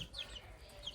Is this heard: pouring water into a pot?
no